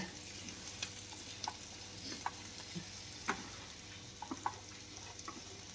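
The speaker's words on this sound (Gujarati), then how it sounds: "હવે છેલ્લે આપણે લીલા ધાણા એડ કરવાના છે અને એક વખત બધું પાછું મિક્સ કરી લેશું" A spoon stirs a dry vegetable farali dish (suki bhaji) in a pan after fresh coriander goes in, with faint soft scrapes and light taps over a low steady sizzle.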